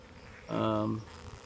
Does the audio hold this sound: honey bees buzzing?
yes